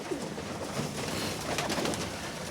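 Pigeons at a feeder on a frosty evening around minus ten, with soft low cooing and rustling fluttering mixed into a faint, steady outdoor background.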